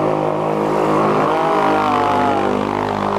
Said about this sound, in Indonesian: Suara motor aja seperti itu.